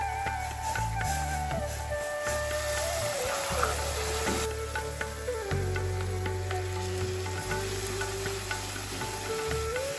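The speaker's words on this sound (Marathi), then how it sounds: "आता ह्याच्यामध्ये आपल्याला थोडं थोडं दूध ॲड करायचं आहे" Hot milk poured little by little into roasted semolina for sheera sizzles and hisses loudly and steadily in the pan throughout, with stirring and bubbling underneath and no talking.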